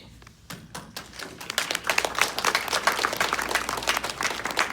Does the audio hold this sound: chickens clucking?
no